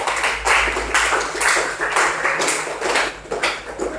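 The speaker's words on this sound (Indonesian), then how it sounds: "Oke, kasih tepuk tangan dulu." A small group at a training workshop claps together, a few seconds of uneven, pulsing hand claps in a room with a low background hum.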